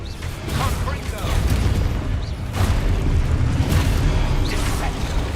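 A Confringo spell in the video game Hogwarts Legacy sets off booming explosions amid a dense, noisy mix of game effects, with several loud bursts in quick succession.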